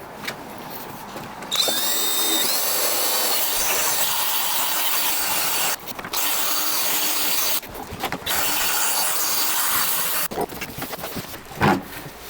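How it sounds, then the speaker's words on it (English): A power drill with a polishing buff attachment whirs steadily with a rubbing, buffing texture on a stained Victorian gate leg table, stopping briefly a few times before starting again, loud and close. "you can get one of these attachments that goes on a drill and polish it like you would shoes"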